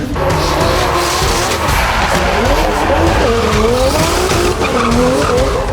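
Drift cars at the Red Bull Car Park Drift event in Katowice, loud continuous engine roar with rising and falling revs and squealing, skidding tires, close and dominant throughout.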